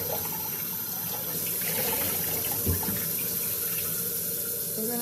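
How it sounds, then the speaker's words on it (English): A raw turkey rinsed under a running kitchen faucet, water streaming steadily into the sink with a continuous splashing hiss and a brief knock midway, no voices. "I'm going to rinse it off a minute."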